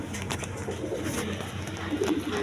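A pair of racing pigeons coos in soft, rolling low calls close by, repeating through the short stretch over a constant background drone, with no talk.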